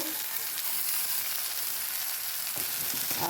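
Ginger-garlic paste sizzles in a pan while a cabbage and fish-head curry is being cooked, a steady, close frying hiss with faint stirring and no talking.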